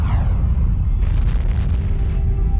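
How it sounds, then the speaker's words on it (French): Dramatic explosion sound effect for a giant star blowing apart in a gamma-ray burst: a loud, sustained deep rumbling boom with a brief hissing sweep at the start and a rushing wash partway through, with no talking. "La plus grosse explosion qui ait secoué l'univers depuis le Big Bang."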